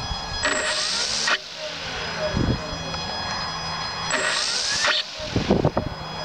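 A stock plug-and-play E-flite Carbon Cub RC plane's electric motor, driven by an E-flite speed controller, revs up in two loud whining bursts with a high tone, separated by steadier running and some handling noise.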